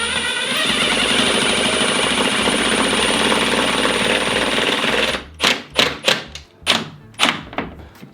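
A power drill drives a screw at an angle into a wall stud during a TV wall installation, a sustained loud whirring buzz for about five seconds, followed by several sharp, separate knocks and clunks close by.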